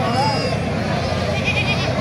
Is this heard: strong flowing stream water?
no